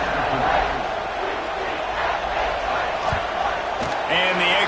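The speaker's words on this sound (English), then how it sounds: "this crowd is buzzing after that last score" A stadium crowd at a Washington vs UCLA college football game keeps up a loud, steady roar and buzz across the whole stretch, with voices talking over the top.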